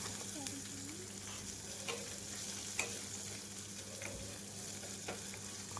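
Curry leaves roast in a pan with a quiet, steady sizzle and a few soft clicks and scrapes from stirring.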